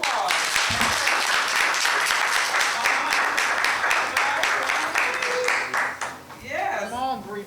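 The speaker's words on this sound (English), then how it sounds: "you all can give her some applause." An audience at a council meeting applauds with sustained, dense clapping for several seconds that fades toward the end, while voices and cheers rise under it.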